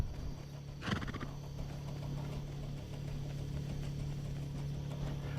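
A horse in the survival video game Rust gives a single loud whinny near the start, a shrill, wavering neigh over a steady low game drone that continues afterward.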